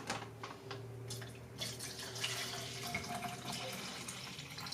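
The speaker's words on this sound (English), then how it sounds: "I'm just going to pour a little bit more in here." Margarita mix is poured into a container at a campsite, a steady liquid splash and trickle heard close up, with faint background sound and no talk.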